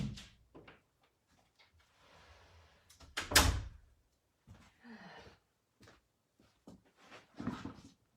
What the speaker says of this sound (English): I'm going to have to close the door